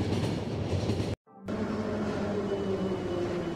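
A train in the game The Final Station rumbles steadily along the rails, its loud continuous roll cutting out briefly for a moment before resuming at full strength, with no talk.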